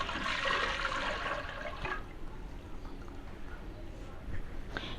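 Boiled rice goes into sugarcane juice for kheer, producing a close, watery splash and slosh that is loudest at first and then settles into a softer liquid churn.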